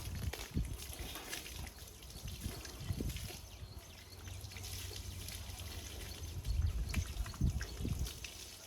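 Water poured and trickling over a cow's head during washing in a village, soft splashing and dribbling in uneven bursts, fairly faint, with a few bird calls in the background.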